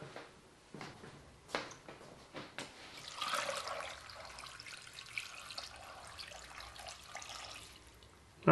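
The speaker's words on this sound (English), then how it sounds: "Yeah, I need a little more water." Water poured into a rock tumbler barrel loaded with crazy lace agate and filler, a soft running, splashing trickle that swells in the middle and then tapers, close and fairly quiet with no talking.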